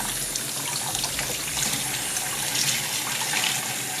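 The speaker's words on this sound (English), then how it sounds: "Rinse it really good. Get all the soap, get everything out of there, conditioner," Water runs steadily from a tap while dyed hair is rinsed out, a constant close splashing hiss with no talking.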